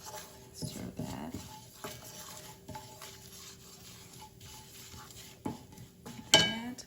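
A spoon stirs turmeric powder in a pan, scraping and clinking softly against the metal in a steady motion at close range, followed by a sharper clatter near the end.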